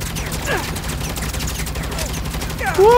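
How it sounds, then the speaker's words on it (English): Heavy gunfire crackles in Saints Row as a fast, steady stream of rapid shots, with a voice speaking briefly near the end. "Oh no, I'm taking a lot of fire."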